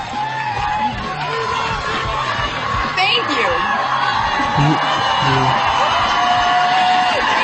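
A live studio audience cheers, whoops and applauds loudly and continuously, with shouts rising out of the crowd noise and someone speaking briefly over it.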